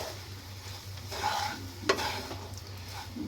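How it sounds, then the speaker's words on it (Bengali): Vegetables fried with semolina for upma in a pan over a low flame, stirred steadily with a spoon scraping the pan, a soft constant sizzle underneath and a sharper clink near the middle; no one speaks. "একবার সবজির সঙ্গে ভালো করে ভেজে নেব পাঁচ মিনিটের মতো নাড়াচাড়া দেবো"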